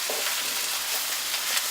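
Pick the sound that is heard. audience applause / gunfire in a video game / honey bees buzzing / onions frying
onions frying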